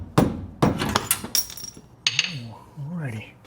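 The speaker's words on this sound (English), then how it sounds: "Let's see if the rubber mallet will take care of this." A rubber mallet strikes a front Adams driveshaft on a Jeep Gladiator or Wrangler, with two dull thumps followed by lighter clinks, then someone speaks briefly.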